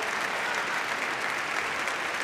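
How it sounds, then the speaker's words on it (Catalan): A hall full of people at a university graduation ceremony for translation and interpretation graduates claps steadily and evenly, a dense, continuous wall of applause with no voices on top. "Un fort aplaudiment a tots aquests graduats i graduades en traducció i"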